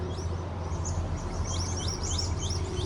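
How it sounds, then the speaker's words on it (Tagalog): Several small birds chirp outdoors at a scenic spot, with repeated short rising tweets scattered across the clip over a steady low background hum, fairly faint and with no talking. "Halos mga ibon lang yung maririnig mo."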